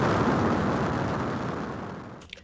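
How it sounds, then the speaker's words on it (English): A rocket booster roars from a space-themed soundtrack, a loud, dense broadband rumble that holds steady and slowly fades over about two seconds before cutting to near silence, with a small pop at the end. "right here, of course, we have the rocket booster themselves as you start to go up the hill"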